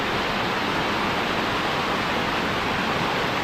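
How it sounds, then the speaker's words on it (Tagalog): Rushing water from Gabur Gabur Falls roars as a steady, dense broadband wash, loud and unbroken throughout, with no voices over it. "Ang lakas ng agos tubig eh."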